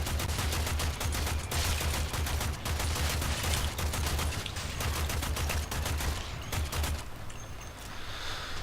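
Rifle gunfire in the Warframe video game, rapid sustained bursts of shots rattling steadily for about seven seconds before tapering off, loud and close with no talk.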